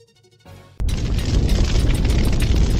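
A colossal impact explosion: a faint low rumble gives way to a sudden, loud deep boom that swells into a sustained, roaring broadband blast continuing to the end.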